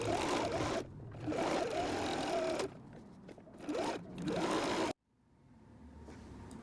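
A sewing machine stitches a seam on fabric for a plush travel pillow, running in several steady whirring bursts with short pauses between them, then falling quiet near the end.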